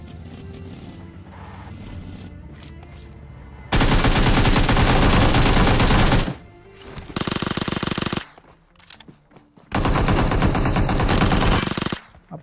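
Gunfire in the battle royale game PUBG, with long sustained bursts of rapid automatic fire, loud and close, separated by short quieter gaps.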